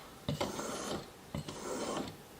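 A chisel edge is drawn over a sharpening stone in two slow, gritty rasping strokes, each starting with a scrape and trailing off, close and fairly quiet with no voices.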